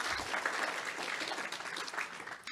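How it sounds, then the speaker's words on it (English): Audience applause at an energy innovation forum, a dense, steady patter of many hands clapping at once that continues throughout. "Let's give a round of applause to them."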